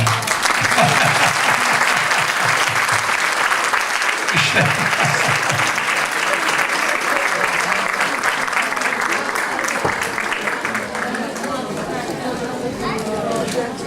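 Sustained audience applause fills the hall at a musical theatre performance by an İzmir music and show ensemble, loud and continuous throughout, with a slight easing toward the end.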